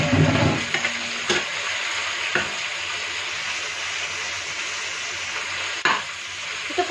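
Pork belly pieces cooking in a pan with sautéed onions for adobong sitaw, a steady close sizzle with an initial burst of stirring and a few scattered clinks of a utensil.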